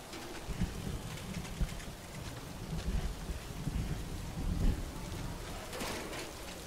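Steady rain in Death Stranding patters and hisses throughout, with low rumbling swells like distant thunder rolling beneath it.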